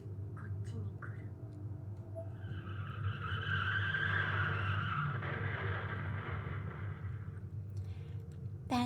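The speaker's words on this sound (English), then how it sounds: "Another car accident again, right outside my door." Tires skidding in a car accident right outside a door, a long, fairly loud squeal that rises and fades over several seconds, with a low background hum and faint voices.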